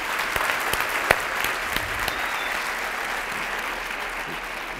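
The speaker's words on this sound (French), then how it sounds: "une bonne main d'applaudissements" Audience applause at the 2015 Foodcamp de Québec culinary demonstration in Québec, a steady, dense clapping from a crowd that holds at an even loudness for about five seconds, with one sharper clap standing out.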